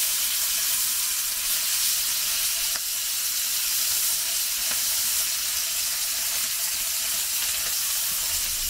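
A rack of lamb sears on a Big Green Egg grill with a loud, steady, close sizzle and hiss that holds unbroken throughout, with no talking.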